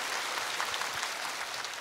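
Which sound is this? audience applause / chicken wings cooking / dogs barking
audience applause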